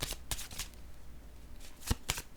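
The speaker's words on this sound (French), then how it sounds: "je vais déposer une carte sur cette" A tarot-style card is laid down during a card reading, giving a few short papery slaps and soft card rustles close by, with sharp taps near the start and again near the end, no talking.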